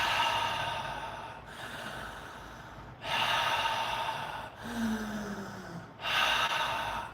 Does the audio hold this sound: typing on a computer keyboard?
no